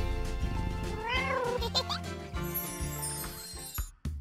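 A cat meows near the microphone in a short rising cry among other tonal sounds and a brief jingle, with no talk over it.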